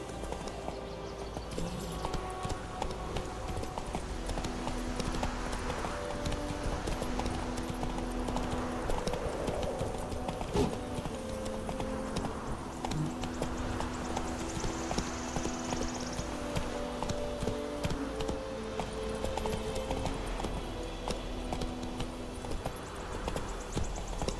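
Roach the horse in The Witcher 3 clip-clops along at a steady walking pace, the hoof beats quiet and even beneath a sustained musical score and ambient game sound, with no speech.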